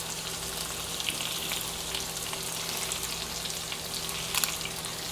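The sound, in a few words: shrimp frying in a pan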